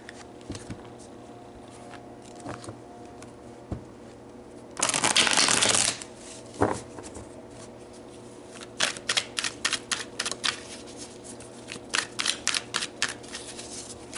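Tarot cards being shuffled at close range: a long riffling burst partway through, followed by a run of crisp, separate snaps and flicks as individual cards are handled and laid down.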